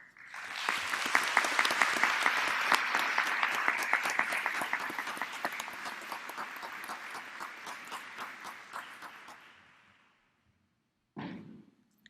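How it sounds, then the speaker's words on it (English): Big round of applause for remote graduates at a spring 2021 university business school commencement ceremony: sustained crowd clapping, loud at first, then slowly thinning and fading out, followed by a short pause and a brief burst of other sound. "Please join me in giving a big round of applause for our graduates attending remotely."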